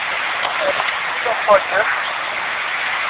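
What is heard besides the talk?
heavy rainstorm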